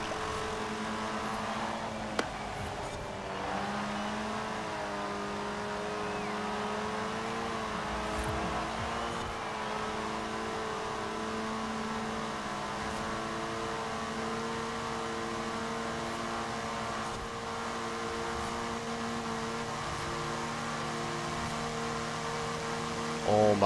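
In Forza Horizon 4, a car engine holds a sustained high-revving drone near redline with steady harmonic tones and a slight pitch wobble, loud and continuous for the whole stretch with no talk over it.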